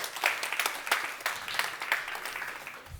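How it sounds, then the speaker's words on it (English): An audience applauding at a frontier energy technologies conference, with dense steady clapping throughout the short stretch at moderate distance. "A round of applause for Dr."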